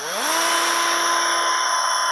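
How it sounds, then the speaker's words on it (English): A power drill whines up to speed and holds a steady, loud, high-pitched tone as it bores through material, close to the microphone with no talk. "So we're going to drill through here."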